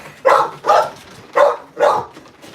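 Caged dogs bark loudly and close by, four sharp barks in an even rhythm about half a second apart, with no talking.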